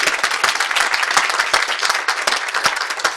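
An audience claps steadily and densely for several seconds, a loud, even wash of many hands with no voices over it.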